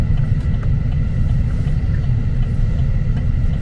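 A car rolls along a road through rural Oklahoma, heard from inside as a loud, steady low engine and road rumble with no talking.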